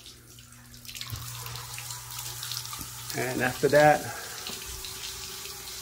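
Water drains from an old residential water heater toward a sump pump, a steady running flow with a brief louder gush near the end, heard up close under a short spoken phrase.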